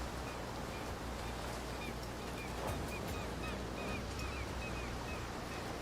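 Steady surf washes along a beach in Path of Exile while a series of short high bird calls, like seagulls, repeat faintly over the constant roar of the waves.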